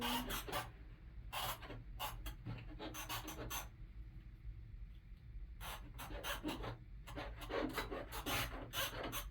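A chalk wheel rolls across fabric in repeated short rasping strokes, close and scratchy, with pauses between bursts and a quieter stretch in the middle.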